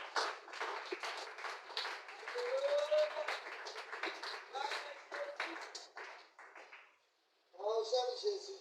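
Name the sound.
congregation applauding the word of God in church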